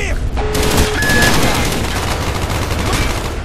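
Dense, continuous burst of gunfire from the video game Call of Duty: Black Ops, sustained and loud with rapid overlapping shots throughout.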